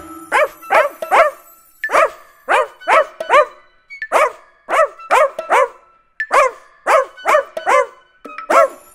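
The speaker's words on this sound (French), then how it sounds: "c'est lui mon petit chien" A small pet dog gives repeated sharp barks in quick bursts of two or three, close and loud, with brief pauses between groups, and no talking over it.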